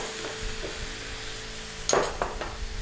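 A utensil stirs beef and mushroom stir fry in a pan, with a soft sizzle underneath, light scrapes, and a brief cluster of clinks and knocks near the end.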